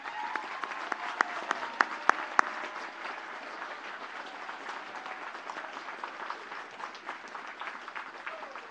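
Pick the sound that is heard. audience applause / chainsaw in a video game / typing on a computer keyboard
audience applause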